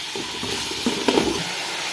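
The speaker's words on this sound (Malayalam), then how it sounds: "എണ്ണയും നെയ്യും ചൂടായതിന് ശേഷം സവോള ഒരു നാല് സവോള എടുത്തിട്ടുണ്ടേ ഇതൊന്ന് വഴറ്റാം" Onions sautéing in hot coconut oil and ghee with a little salt, a loud close sizzle broken by stirring scrapes and clatter in the middle, with no talking.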